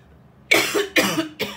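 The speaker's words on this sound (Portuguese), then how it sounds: "Sabe que eu engasguei hoje com a minha saliva?" A woman coughs three times in quick succession after choking on her own saliva, close and fairly loud, with no talking over it.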